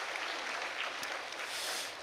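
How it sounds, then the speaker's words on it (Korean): A church congregation applauds together in a broad, steady wash of clapping that holds evenly for two seconds with no voices on top. "우리 격려의 박수를 보내겠습니다"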